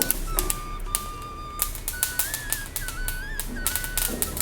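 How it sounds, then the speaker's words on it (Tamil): White sesame seeds dry-roasting in a pan crackle and pop in quick, irregular sharp clicks, with a thin whistling tone running in the background. "எள்ளு நல்லா பொரியுது"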